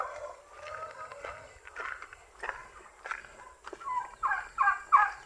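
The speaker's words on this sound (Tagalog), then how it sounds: "Ayan yung ating mga pabo." Turkeys kept among backyard poultry gobble in a string of throaty bursts that build louder toward the end, nearby and with no talk over them.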